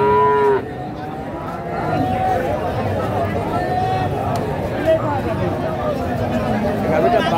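A large Friesian dairy cow at a busy cattle market lowing in a few drawn-out moos, clear and close, over a constant background of crowd chatter and talk.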